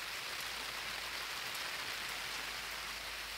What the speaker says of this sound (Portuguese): Desde 5 horas da manhã que tá caindo água aqui, tá chovendo.